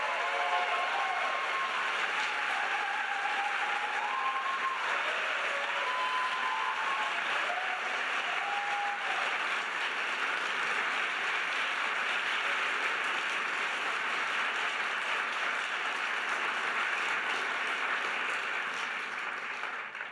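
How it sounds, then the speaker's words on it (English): A university lecture audience applauds a visiting senator, a long, even wash of clapping from a large hall that holds steady for about twenty seconds before easing slightly at the end. "I know all the applause are really for you, but I like them anyway."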